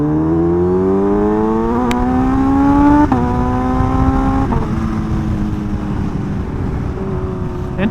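A Kawasaki Ninja H2 sport motorcycle accelerates hard, its engine note climbing then dropping at each upshift, several gear changes in a row, loud and close without talk.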